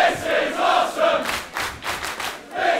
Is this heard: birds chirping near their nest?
no